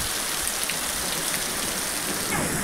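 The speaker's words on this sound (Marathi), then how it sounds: "आता जाम जोराचा पाऊस आला आहे." Heavy summer rain pours down in a dense, loud, continuous roar of drops drumming on surfaces, broadband and steady without a break.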